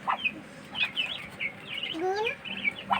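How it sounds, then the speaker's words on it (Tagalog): Young ducklings peep in quick, high chirps, several overlapping calls close by, with a person talking softly among them. "Yan naman natin yung mga bibi, mga idol."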